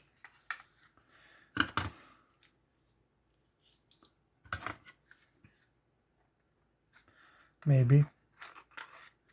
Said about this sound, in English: So I'm going to start cutting.